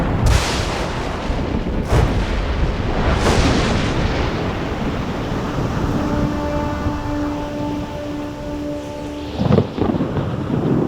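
Heavy thunderstorm with repeated loud, close thunder cracks and long rumbling rolls over steady rain, with a few tonal hums appearing partway through.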